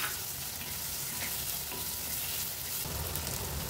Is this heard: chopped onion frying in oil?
yes